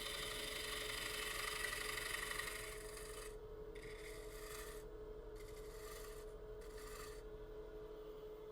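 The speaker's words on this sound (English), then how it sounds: "I think I'm going to come in there with a detail spindle gouge for that." A detail spindle gouge cuts into a winged wooden bowl spinning on a lathe, giving a steady, close, raspy scraping hiss that grows slightly quieter and choppier partway through.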